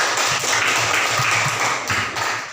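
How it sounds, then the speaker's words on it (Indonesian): A class of junior high students in a grade eight science lesson claps together in a steady patter of hand claps, fairly loud and close, with no talking over it. "Mari kita berikan aplaus."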